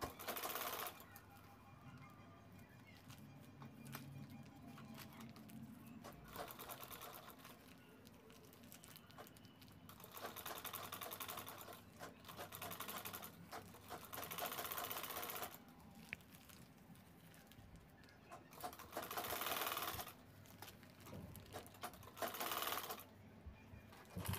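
A sewing machine stitches together a fabric handbag. Faint bursts of rapid mechanical stitching stop and start, with quiet pauses between runs.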